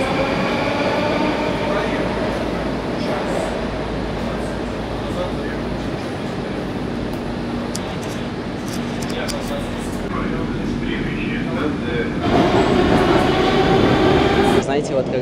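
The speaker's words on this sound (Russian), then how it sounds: "Я сел в метро. Я так давно на метро не ездил" A Moscow metro subway train rumbles and roars continuously while riding, a dense, loud rolling noise with rattles and a shift in tone near the end, and a voice talks underneath.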